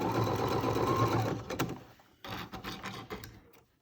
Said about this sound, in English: Go Gadget sewing machine